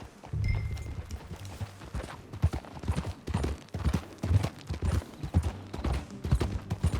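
Horse hooves clip-clopping in Red Dead Redemption 2, a steady run of close, loud hoofbeats on ground with a low rumble under them, continuing throughout.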